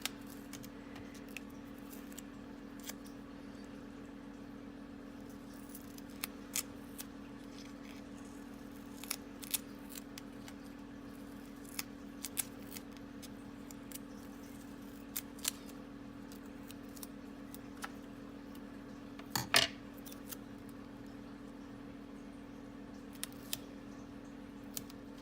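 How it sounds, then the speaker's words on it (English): Scissors snip through paper while a snowman shaker card is assembled, producing short, crisp cuts scattered irregularly over a steady low background hum, close by and fairly quiet with no talking. "I gotta cut a whole new piece and do the same thing I did before."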